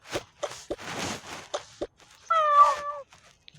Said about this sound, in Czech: A naše kočička.